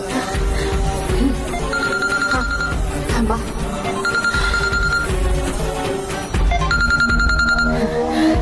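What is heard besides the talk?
telephone ringing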